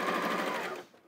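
A Janome 560 sewing machine stitches slowly through a quilt block with a rapid, even mechanical chatter. It runs close and clear for about a second, then winds down.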